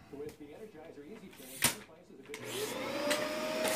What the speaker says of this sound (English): Spiz isn't going to wait for my recording to be over to turn the vacuum on